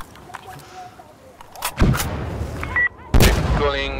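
Frag grenade explosion in Insurgency Sandstorm amid close combat: heavy booming blasts and gunshots burst out in the second half, loud and near, following quieter background noise, with a voice briefly present.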